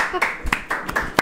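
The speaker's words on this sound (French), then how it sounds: "On peut applaudir Nicolas quand même" A handful of people clap for Nicolas during a casual group session, sparse uneven claps scattered over about a second, mixed with chatter and laughter.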